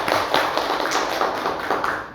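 An audience at a campus anti-corruption session claps together in a brief, steady burst of applause, close and fairly loud, with no talk.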